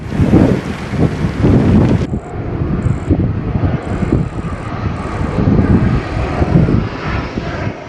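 Firefighting helicopters and airplanes working over a forest fire, a loud aircraft engine drone rising and falling as planes pass overhead, with wind noise against the microphone throughout.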